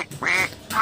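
A duck gives a loud, close, nasal quack, with the start of another quack cut off at the end.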